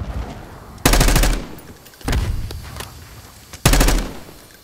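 Call of Duty Black Ops 6 gunfire: three loud, sharp bursts of rapid automatic shots, separated by short pauses, close and dominating the scene.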